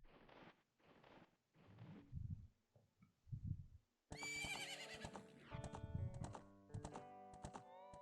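The horse Epona in The Legend of Zelda: Ocarina of Time gives a loud, bright whinny midway, preceded by soft muffled taps and followed by game chimes and clip-clop hooves.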